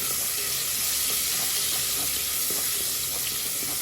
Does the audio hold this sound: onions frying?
yes